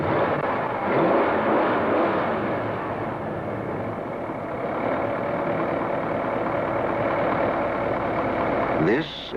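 A newly assembled engine at a 1962 Dearborn plant runs on a hot test stand, hooked up to coolant, exhaust and fuel lines, giving a steady loud rumble throughout, with a slight shift near the end.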